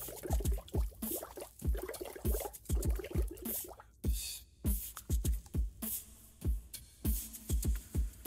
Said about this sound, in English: Baking soda and vinegar had a chemical reaction and made gas. That gas pushed the foam up and out like lava.